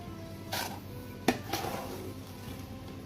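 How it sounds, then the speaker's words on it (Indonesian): Fried peanuts are lifted from oil and drained in a pan, with a few close metallic scrapes and clinks of a utensil spaced over a quiet, low background. "Oke, kacangnya kita tiriskan ya, biar nggak kebawa minyaknya nih"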